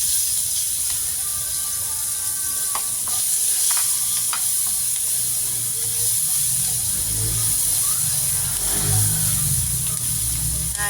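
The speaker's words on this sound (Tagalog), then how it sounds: "Lagay ko na to sibuyas at bawang." Onion and garlic frying in a pan for pinakbet, giving a constant close sizzle and hiss with light stirring scrapes underneath, steady throughout and no talking.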